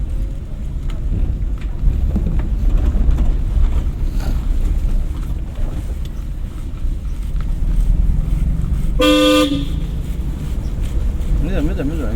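A vehicle horn blares briefly once, loud and close, amid road and engine noise while a driving instructor talks during a driving lesson.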